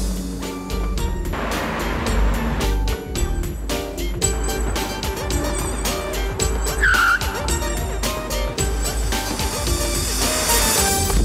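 A car braking hard with a long tire skid and squeal, loud and close, amid busy engine and street noise over about eleven seconds, with no talk over it.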